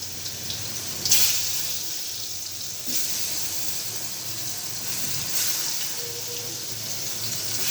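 Pointed gourd (potol) fries in a pan with a steady, close sizzling hiss and a few sharper pops, with no talking.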